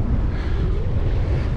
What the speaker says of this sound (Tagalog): Sobrang lakas ng hangin, hindi ko alam kung naririnig nyo ako.